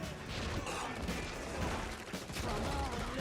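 Rifle gunfire in a Stranger Things action scene, dense rapid volleys of shots blending into a continuous loud roar, with a voice partly audible under it.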